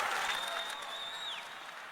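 A church congregation applauds together during a Bible study service, a dense wash of clapping from many hands that holds steady and then eases slightly, with a faint voice rising over the crowd.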